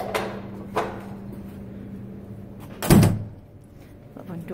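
A school door being shut and locked, a single solid thunk of the door closing followed by fainter clicks, close by, with faint background murmur.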